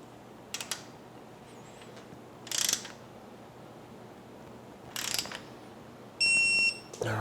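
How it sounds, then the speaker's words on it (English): A 5/16 inch Allen wrench torques the underside bolts of an EZ ON rake kit on a 2014-and-up motorcycle, with several short metallic ratcheting clicks in separate bursts and a brief tonal beep near the end, no speech. "we're going to torque in an X pattern our bolts underneath here"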